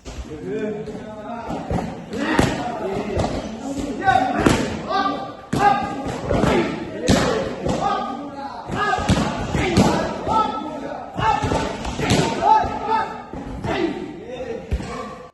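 Muay Thai punches, jab-cross combinations, landing on hard pads held by a trainer in Thailand: sharp, loud thuds in quick pairs and bursts, close by, with someone speaking at times.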